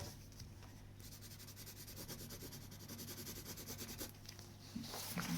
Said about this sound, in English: So you rub out lines.